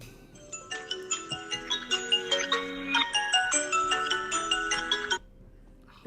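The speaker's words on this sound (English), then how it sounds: "who's out here with their ringtone tone on loud?" A phone ringtone plays loudly, a bright, busy electronic melody of rapid plucked notes that runs for about five seconds and then stops.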